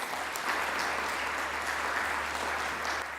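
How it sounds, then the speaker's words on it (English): Steady applause from a conference audience at an academic closing awards ceremony, a dense wash of clapping holding evenly throughout with no speech over it. "I would really like to ask you to applaud these two people especially for all their work"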